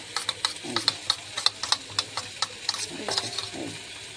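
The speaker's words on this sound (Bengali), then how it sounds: "চলো এটা একটু গুলে নিই" A sauce mixture with chili powder is stirred in a pan, with a spoon scraping and tapping in a quick, irregular rhythm of sharp close clicks over a low background hum, with brief voices murmuring faintly.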